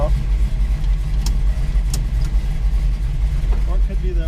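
A 1972 Chevrolet Nova SS engine runs steadily during a night road test, a low continuous rumble heard from inside the car as people talk over it, with a few faint clicks.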